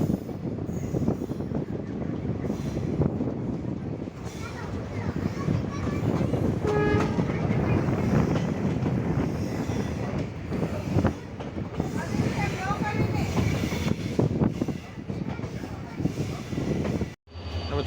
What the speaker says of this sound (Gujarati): આપણે આ તરફ ટ્રેન આપણી વળી ગઈ છે.